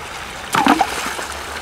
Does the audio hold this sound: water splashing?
yes